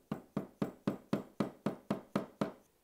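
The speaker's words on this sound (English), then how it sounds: "Keep going with your chisel." Nine sharp, evenly spaced mallet strikes on a chisel chopping a hinge mortise in wood, each a crisp close knock with a short decay, steady rhythm throughout with no talk.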